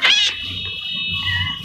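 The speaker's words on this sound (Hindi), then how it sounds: "ये बिल्ली का बच्चा।" A kitten in the video game Minecraft gives a short, high-pitched meow that then trails into a fainter, thin tonal cry, heard alone against a low background hum.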